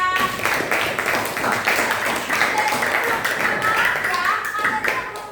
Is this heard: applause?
yes